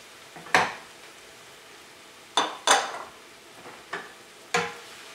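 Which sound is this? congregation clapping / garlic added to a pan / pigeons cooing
garlic added to a pan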